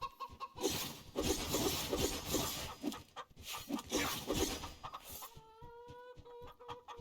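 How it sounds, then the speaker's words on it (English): Chickens cluck and squawk in loud, busy bursts for several seconds, then a high, sustained sustained tone takes over near the end. "Chicken!"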